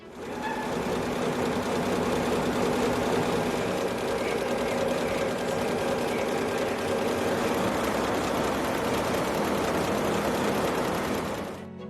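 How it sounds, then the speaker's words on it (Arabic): A multi-color sequin embroidery machine runs continuously at close range, a loud, even mechanical whir with a rapid stitching chatter and steady hum that holds unchanged throughout, with no voices. "نثبت نقطة البداية ثم نقوم بتشغيل الماكينة."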